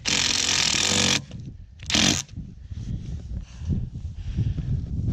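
A power driver screws a Kimpex mud flap onto an Arctic Cat Norseman 3000, with one loud whirring burst of about a second, then a shorter second burst, followed by quieter rustling handling noise.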